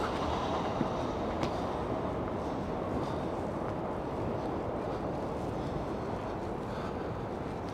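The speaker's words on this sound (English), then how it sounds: "Oh, here comes the monorail. Look at that, the monorail" A Tokyo monorail train approaches through the city with a continuous loud rushing rumble and faint rail clicks, steady in level across the scene, and no talking.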